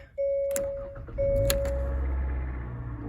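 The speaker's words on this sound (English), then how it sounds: "You don't have to push that down on that to start the car." A 2018 Hyundai Kona starts up: two short electronic chimes, then the engine catches and settles into a low, steady idle close by, with no talking.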